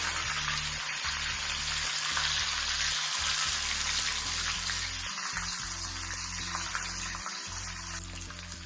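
Loud, continuous sizzling of curry leaves and green chillies frying in hot oil, a dense crackling hiss over a low steady hum.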